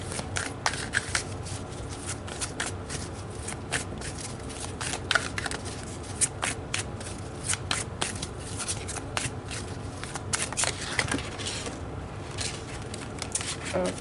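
Close, continuous riffling and shuffling of a deck of tarot cards runs throughout as rapid papery flicks and slaps, steady and fairly loud with no talk.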